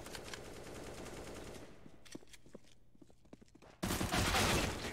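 Rapid automatic gunfire from a Counter-Strike match on the Mirage map, dense bursts of shots with brief footsteps between, then a louder close volley in the final second.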